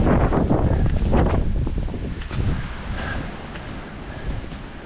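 Strong wind blows on a snowshoe trail in Wild Basin near Allenspark, Colorado, and buffets the microphone with loud, gusty roaring rumbles that ease off somewhat after the first two seconds.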